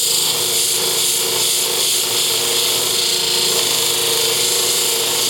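Power tool grinding to sharpen hard steel thinning shears, a loud, steady, continuous whine held throughout without talk.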